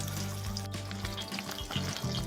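Crucian carp sizzling in hot oil in a pan, a steady crackling fry with a few clinks of utensils, fairly quiet and close.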